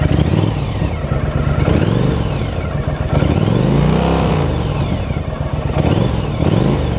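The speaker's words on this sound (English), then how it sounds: "I'll rev it a little bit here." A 1982 Honda CX500 Turbo motorcycle engine revs up and down several times, loud and close, with rising and falling engine pitch over a steady idle and no talking.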